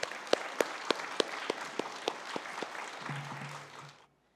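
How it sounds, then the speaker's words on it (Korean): A church congregation at an early-morning prayer meeting gives a guest missionary soft, distant applause, with a few sharp claps standing out in a steady beat before it fades and a low voice briefly enters. "우리 따뜻하게 환영의 박수로 맞이하겠습니다"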